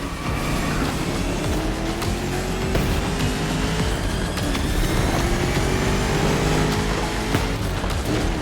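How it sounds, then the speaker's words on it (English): The 1969 Mustang Boss 429 V8 muscle car roars continuously in The Crew Motorfest racing game, its engine note climbing and dropping through gear changes at a loud, steady level with no talk. "You're driving my #1 car, the star of my collection, the 1969 Mustang Boss 429."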